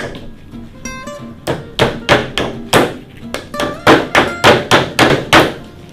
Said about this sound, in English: Glass is not very good for hammering nails.